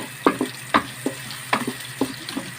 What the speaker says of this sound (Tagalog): Kasi hindi naman kailangan na mag-brown ang luya or ang bawang, sibuyas.